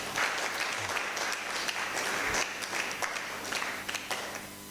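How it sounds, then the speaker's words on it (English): An audience at an academic colloquium gives a speaker a round of applause, a full, continuous wash of many hands clapping that stays fairly even throughout. "shall we give him a round of applause?"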